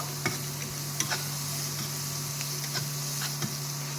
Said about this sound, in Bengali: কেটে রাখা পেঁয়াজগুলো এবার বাটারের মধ্যে আমি দিয়ে দিচ্ছি ভালো করে একটু ভেজে নেব